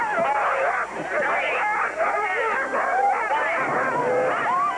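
Sled dog teams at the start of a 260-mile race through the North Maine woods from Fort Kent bark, yip and whine in a constant overlapping chorus, close and loud, with crowd noise mixed in.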